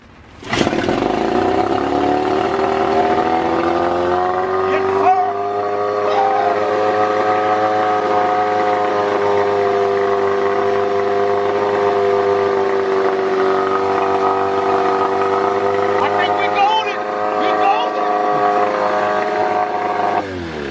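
A 1988 Gamefisher 9.9 hp outboard motor fires up and keeps running, with a loud, steady droning hum and a slight waver in pitch that holds for about twenty seconds.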